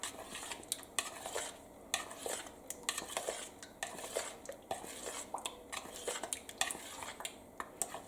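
Salmon bites are tossed in sauce in a pan, with repeated sharp utensil clinks and scrapes against the pan over a soft sizzle, close and unvoiced.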